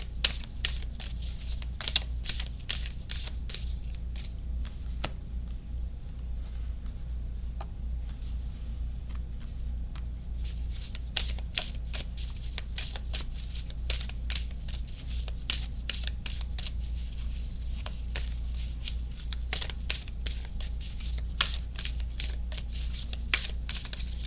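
Message cards for a pick-a-card reading are shuffled by hand in repeated soft riffling bursts over a steady low hum, close and fairly faint.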